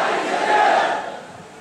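A large crowd at a conference against the Common Civil Code on an exhibition ground roars back the Nara-e-Takbeer response in unison, a loud, sustained collective shout that swells and then fades over a couple of seconds.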